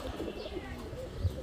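A male racing pigeon coos close by, a short low throaty rolling call with a faint chirp, heard on its own without speech.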